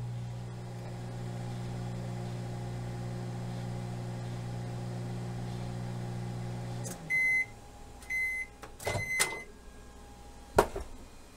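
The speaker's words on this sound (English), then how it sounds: "So I put it in the microwave. We'll put it in for a minute." A microwave oven heating water for iced coffee hums steadily with a low drone for about seven seconds, then stops, followed by several sharp beeps and a door click or clatter.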